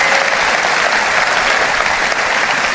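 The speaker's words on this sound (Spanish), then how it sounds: "si le vas a dar un aplauso, dáselo más fuerte" A church congregation bursts into loud, sustained applause that fills the whole clip, dense and steady with no talk above it.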